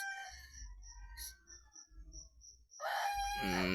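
A fighting rooster crows close by on a farm. There is a long, loud, harsh call at the end, preceded by quieter clucks and low rumbling handling noise, with no talking.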